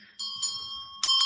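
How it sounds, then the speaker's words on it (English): A prayer bell from Laos struck twice, giving a bright, sustained metallic ring; the second strike near the end sounds louder and brighter, with no voices over the ringing. "My prayer bell from Lao."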